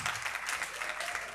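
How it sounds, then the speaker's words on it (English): Audience applause after a speaker is called up at a talk on innovation and development, a dense, even clapping that holds steady throughout, moderately distant and fairly quiet. "big applaud."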